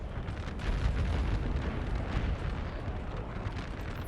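Artillery fire in the Napoleon: Total War battle game, a dense continuous rumble of distant cannon booms and low bursts rolling together steadily throughout, with no talk.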